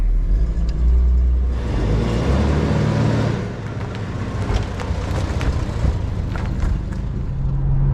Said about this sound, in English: Let's pop this baby into drive. Let's take the release brake off and let's go.